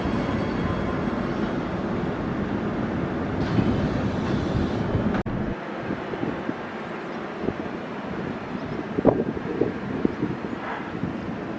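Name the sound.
six-car EMU suburban train at Palmwoods station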